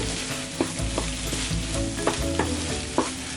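Mashed dal goes back into a hot pan and cooks in a steady close sizzle, while a spoon scrapes and knocks against the pan in several sharp, irregular strokes.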